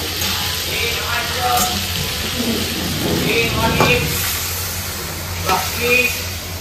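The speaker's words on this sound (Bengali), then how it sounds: "এদিকে কুলগুলো সব ফুটে উঠেছে।" Jujube (kul) chutney bubbling at a boil in a pot, a soft continuous simmer with bursts of bubbling, heard under nearby voices talking.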